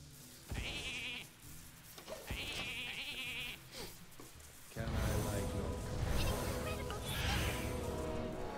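Sheep bleating from a transform spell in the Hearthstone digital card game: two wavering bleats, then a burst of game effects and a busy background.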